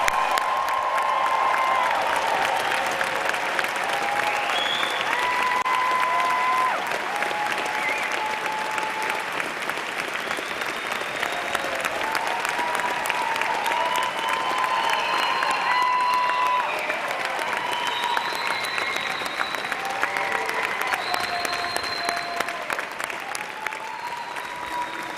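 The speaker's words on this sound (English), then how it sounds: "please join me in applauding the June 2022 graduates" A large audience applauds the June 2022 graduates at a university convocation ceremony, long sustained clapping with scattered cheers and whoops rising over the steady roar before it slowly thins.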